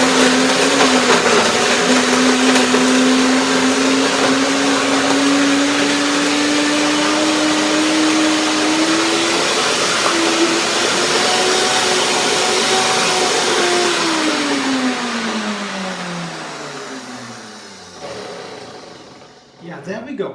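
A kitchen blender whirs loudly, blending fruit and nuts for a coconut mango ice cream cake filling, its motor pitch holding steady and then rising before winding down to a stop near the end.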